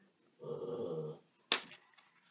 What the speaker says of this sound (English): I'm just going to have to let my dog out.